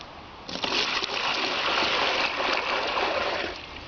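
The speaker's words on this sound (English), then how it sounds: "you now pour water inside a bowl like this" Water gushes steadily into a bowl for soaking split plantain suckers, a loud, close, continuous pouring rush that starts abruptly and eases off near the end.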